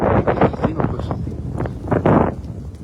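Outdoor wind buffeting a microphone, a series of loud low gusts that rise and fall unevenly across the stretch.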